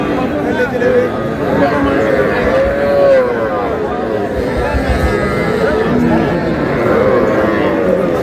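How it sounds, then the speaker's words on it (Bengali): Young bull calves low at the Aftabganj cattle market, with moos rising over constant crowd chatter and people talking nearby throughout. "ষাঁড় বাচ্চা, ষাঁড় বাচ্চা।"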